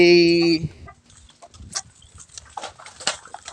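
Breeder chickens, Dekalb and Rhode Island Red crossbreeds, give soft, scattered clucks close by after a brief loud tone at the start, with faint talk around them.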